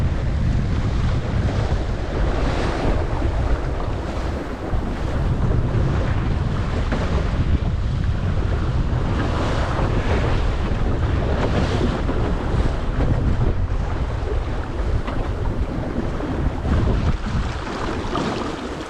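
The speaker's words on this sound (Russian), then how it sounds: "откуда такой ветер сильный взялся" Strong wind buffets the microphone aboard a Laguna-Kombi+ sailing dinghy on open water as waves slap and wash against the hull, a dense, constant roar with no pauses throughout.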